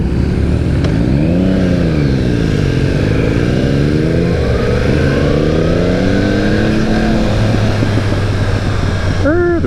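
A Yamaha R1 sport motorcycle engine revs hard while being ridden, its pitch repeatedly climbing and dropping through gear changes over steady wind roar, loud and close.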